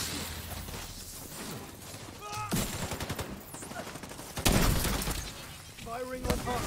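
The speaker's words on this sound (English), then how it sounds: "Firing on hostile." Gunfire in The Division 2 comes in sharp bursts and crackling volleys with shattering impacts, mixed with a game voice and scattered battle noise.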